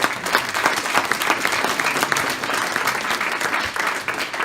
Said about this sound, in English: So you all please give the media that are here a round of applause